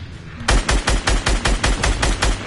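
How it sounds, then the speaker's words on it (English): Rapid rhythmic automatic fire in a shooter video game, around ten loud evenly spaced bursts close by and heard alone. "Die to my rocket launcher"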